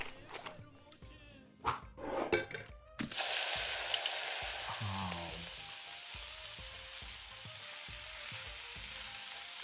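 Food sizzles loudly in a pan in the cooking game Venba, the hiss bursting in after a few knocks and clatters, then holding steady with occasional stirring taps.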